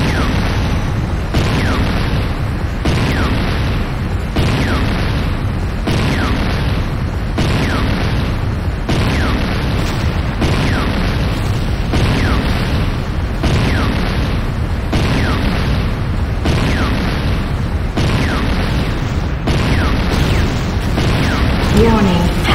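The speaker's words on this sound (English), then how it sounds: "GDI Tiberium Refinery destroyed." Building destruction in the Command & Conquer Renegade video game produces loud, dense rumbling booms that pulse in a regular, repeating rhythm throughout.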